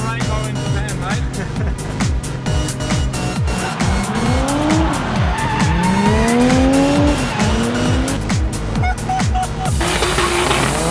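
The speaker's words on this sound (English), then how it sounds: "We're drifting under a rainbow in Japan, mate." A car drifting in Japan with long rising and falling tire squeals and a revving engine, loud and close throughout, while people talk over it.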